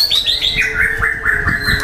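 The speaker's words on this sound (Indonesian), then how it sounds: "perenjak sawah, perenjak sawah." A plain prinia calls from inside an aviary with a loud, close run of sharp, high chirps and short sliding notes, repeated in quick succession.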